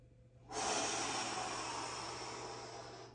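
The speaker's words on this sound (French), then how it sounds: "Et on expire avec la bouche." A long, steady breath pushed out through the mouth during a breathing exercise, starting abruptly as a loud, close, airy whoosh and slowly fading, with no talking.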